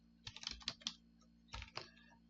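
Keys clatter on a computer keyboard while a spreadsheet formula is typed, two quick bursts of close, crisp clicks separated by a short pause, with no voice over them.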